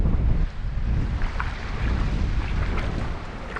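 Waves breaking on a beach at night during cod fishing with big tides, a loud continuous roar of surf and rushing water, buffeted by heavy wind noise against the microphone, with no talking.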